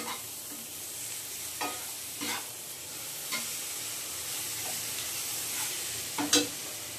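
Dal simmering in a pan with a fish head added, a steady low sizzle and bubble beneath occasional scraping stirs of a spoon, several distinct strokes spread across the stretch, close and fairly quiet with no one talking.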